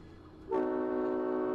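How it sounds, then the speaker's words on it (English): A loud train horn fitted to a road vehicle blares suddenly after quiet traffic noise, a steady multi-tone chord held without break to the end. "bro's got a train horn"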